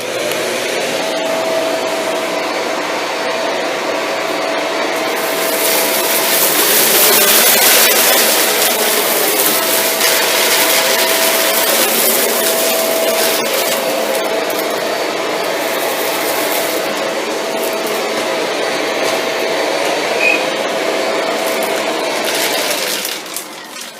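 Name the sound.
Shark Rotator Lift Away NV682 vacuum cleaner, hard floor mode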